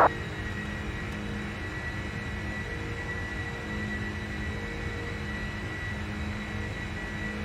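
Charter airliner jet engines on runway 8 at KJAX, carrying an NFL team, produce a steady, close broadband roar with humming tonal drones, holding an even level throughout without any build or fade, and no voices.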